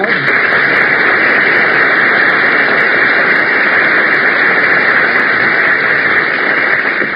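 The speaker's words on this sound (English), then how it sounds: "did you hear that applause, Mary?" Loud sustained applause, a dense wash of clapping that fills the whole stretch evenly, heard through a narrow, hissy old radio recording.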